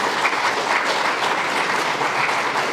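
Audience at a Windsor Platinum Jubilee schools' week launch event gives performers a round of applause, a dense, even clapping that fills the short stretch without pause.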